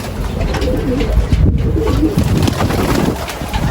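Pigeons kept in a wire-mesh loft coo in soft, low, repeated phrases, close to the microphone under steady wind and background noise.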